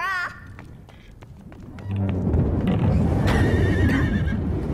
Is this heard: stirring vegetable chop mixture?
no